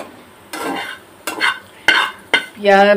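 Onions frying in oil on a hot griddle, heard as four or five short, loud bursts of scraping and sizzling as they are stirred and turned, with brief quieter gaps between.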